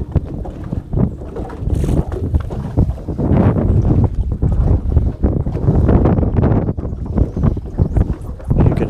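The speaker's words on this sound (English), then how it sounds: "You can hear it still gusting pretty good." Strong gusting wind on a lake during fishing roars steadily across the microphone, rising and falling in loud buffeting surges with no talk.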